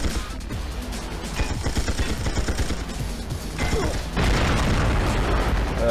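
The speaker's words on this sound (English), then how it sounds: "Stupid gas bomb." A gas bomb bursts in the Tomorrow Never Dies video game, a loud broad blast with rumbling, crashing texture that swells again near the end, heard alone without talk.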